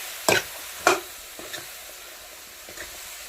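Chicken frying with masala, salt and turmeric in a pan for a rustic dehati chicken dish, with two sharp close scrapes of the spoon, a few fainter stirs, and a low sizzle underneath.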